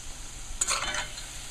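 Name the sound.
thick sugar syrup boiling for mithai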